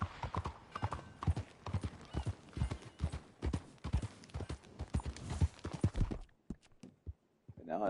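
Horse hooves clip-clop in a video game, a rapid, close run of hoof strikes that slows to a few scattered steps at the end, with a faint whinny-like sound.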